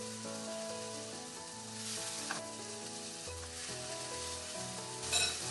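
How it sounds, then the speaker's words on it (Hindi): Paneer pieces frying on a high flame, a steady close sizzle and crackle with a few stir sounds, under light background music. "हम बिल्कुल हाई फ्लेम पे हम चाहते हैं ये थोड़ी इनकी सरफेस, पनीर के पीसेस की सरफेस भुनी भुनी हो जाए।"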